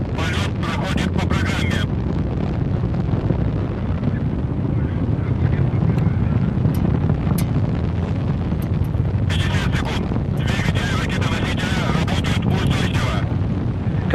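Proton-M rocket engines in flight roar as a steady, dense, broadband rumble, loud and unbroken throughout, with crackling hiss bursts near the start and again later.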